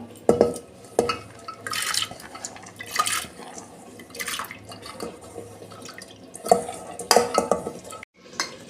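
Water is poured into washed lentils in a pressure cooker, making splashy liquid bursts and scattered metallic clinks of the pot, close and fairly quiet, with no talking.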